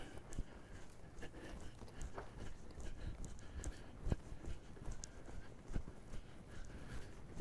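Faint, uneven clip-clop of hooves on soft ground, a steady walking rhythm with occasional sharper thuds, quiet and without voices.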